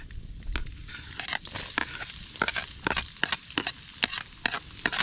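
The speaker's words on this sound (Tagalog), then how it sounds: "Sabay natin guys yung bawang." Garlic sizzling in hot oil and butter at an outdoor cooking spot, a steady close crackling hiss broken by frequent sharp pops and stirring clatters, with no talking.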